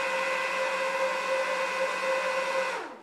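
Dell PowerEdge 1750 server running loudly, a steady whining fan drone with strong tonal hum that holds evenly for nearly three seconds before winding down as it shuts off.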